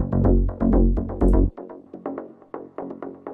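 In a melodic techno production, a synth line runs through a delay and reverb return with mid-side EQ. Punchy repeated stabs give way to softer, spaced echoing repeats that trail off gently.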